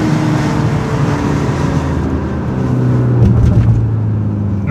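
An Audi SQ5 engine pulls hard while driving, a loud, low droning hum with tonal harmonics that rise slightly near the end, heard from inside the cabin without speech.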